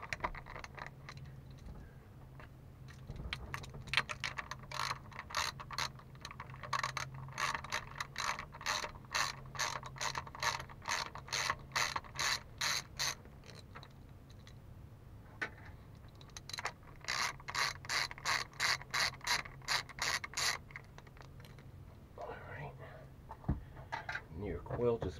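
A ratchet clicks in rapid bursts while removing a 10mm bolt from a Yamaha TR-1 jetboat engine, in several long runs of rhythmic ticking separated by pauses, close and clear with faint metallic handling between.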